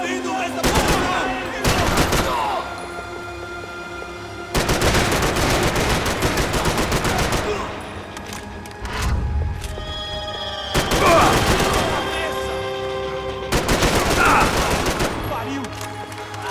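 Bursts of automatic gunfire and heavy shots from the shooter game Max Payne 3, loud and close, coming in several sustained volleys separated by brief pauses with echoing booms.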